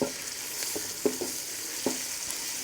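Ginger garlic paste fries in a pan for chicken biryani, giving a steady close sizzle with a few soft scraping stirs and light taps of a spoon, and no talking.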